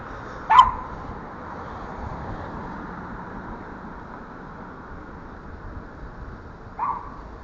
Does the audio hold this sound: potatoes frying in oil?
no